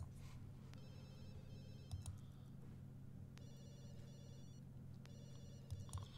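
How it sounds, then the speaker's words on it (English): Electronic telephone ringing in The Sims 2 video game, three repeated ring bursts at a steady rhythm over a low continuous hum, with no voices. "Go ahead and answer your phone, Sam."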